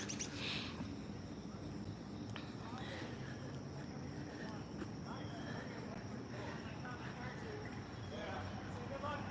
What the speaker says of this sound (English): There's a lot of birds today.